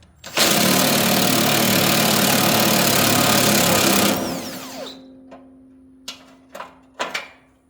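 An impact wrench rattles loud and close in one continuous burst of about four seconds as it breaks loose a stubborn wheel fastener, followed by a low hum and several short sharp clanks of the tool and parts.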